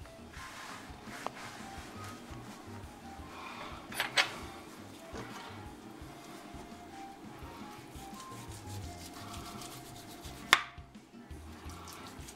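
A knife shaves thin slices off an apricot-glazed Kentucky Legend ham, making faint, soft scraping cuts with a couple of sharper knocks against the board.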